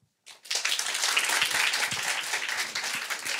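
An audience breaks into applause on cue after a brief silence, then holds steady, moderately loud clapping to the end, with a few low thumps mixed in.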